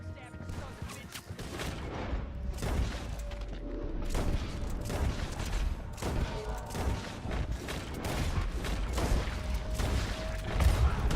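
Rapid volleys of gunfire crack repeatedly while riding on horseback in Red Dead Redemption 2, dense bursts with booms and mechanical clatter layered over hooves, sustained and fairly loud.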